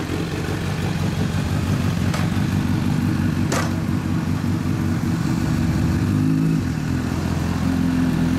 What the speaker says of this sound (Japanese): すみません、アローサウンド聞かせてもらえますか？